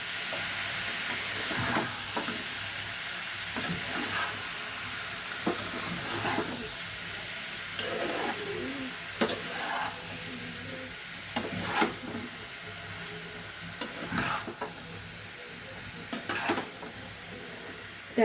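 Breakfast food being stirred and mixed in a frying pan, with a steady sizzle under repeated scraping strokes of the spoon, close and moderately loud throughout.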